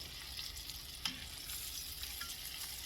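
Chicken cutlets fry over medium heat in a pan, giving a steady close crackling sizzle with a single sharper tick, faint and unbroken throughout.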